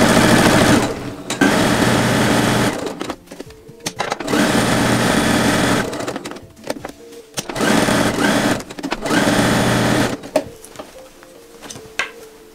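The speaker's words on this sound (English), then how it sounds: "I'm stitching them on very close to the edge of the pocket" Sewing machine running in several long bursts, stitching pockets close to the edge onto a pinafore dress, with short pauses and small clicks between runs; close and steady, no voices.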